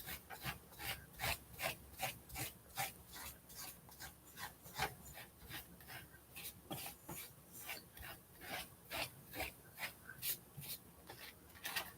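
Close, steady back-and-forth rubbing strokes wipe material off a surface being prepared for painting, about two even strokes per second over an otherwise quiet background.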